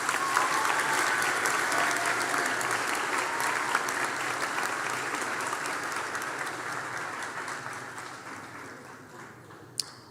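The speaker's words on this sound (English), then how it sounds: "Please give ourselves and the graduates a round of applause." Sustained applause from a graduation ceremony audience honouring health sciences graduates, dense clapping that slowly fades over about ten seconds, with a sharp knock near the end.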